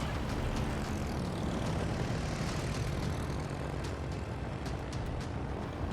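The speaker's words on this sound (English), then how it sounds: "Chances are he's not even paying attention to whether my plane's coming in or not." Steady roaring drone of a carrier plane flying in World of Warships, a loud continuous propeller aircraft engine noise sustained throughout without talk.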